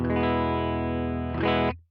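An electric guitar played through a Line 6 POD Express on a clean Fender Deluxe Reverb-style amp model: one sustained chord rings evenly, is re-struck near the end, then cuts off abruptly, with no voices.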